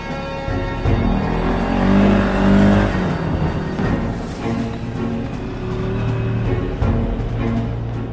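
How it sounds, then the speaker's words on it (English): An ATV engine drones and revs continuously up close while riding, with low rumbling wind buffeting on the microphone mixed into the steady roar. "when I'm riding the ATVs, you'll get wind noise in the microphone"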